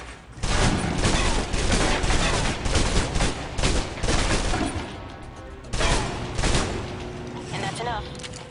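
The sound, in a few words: submachine gun fire in video game Alpha Protocol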